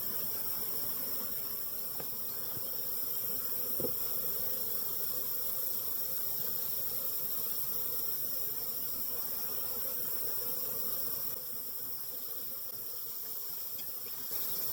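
Steady, close droning hum of a small late-season swarm of caught honeybees, a continuous insect buzz with no talk.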